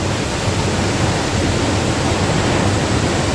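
A waterfall pours beneath the edge of a cave lined with ferns, a loud, dense and unbroken roar of falling water that fills the space, close and steady with no voices.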